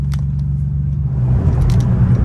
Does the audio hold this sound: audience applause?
no